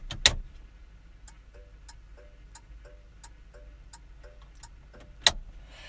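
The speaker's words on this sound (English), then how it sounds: "I just want to go quiet for a second so you can hear this, because this is your hazards." Hazard lights on a 1970s Austin Allegro ticking in a steady, even rhythm of soft clicks inside the quiet cabin, with a louder knock near the start and another near the end.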